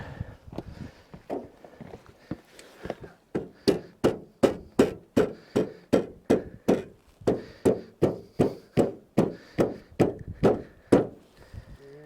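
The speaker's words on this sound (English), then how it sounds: "I'm gonna have to go get the hammer." Hammer blows on standing seam metal gable and peak trim on a sawmill cover roof: a long run of evenly spaced, sharp, close strikes, about two per second, that grow louder after a few softer opening taps.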